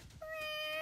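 A human voice imitates a cat's meow, giving a single drawn-out, tonal mew that rises in and holds steady, close and fairly quiet, with no other talk.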